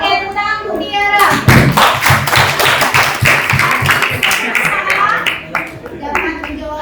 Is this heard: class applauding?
yes